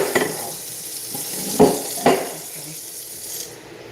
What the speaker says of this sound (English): Make sure I got this rinsed out well.